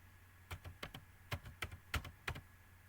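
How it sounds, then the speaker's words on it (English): A password being typed on a computer keyboard: about ten quiet, crisp keystrokes in quick irregular bursts over a soft background hum. "Here we will type our password."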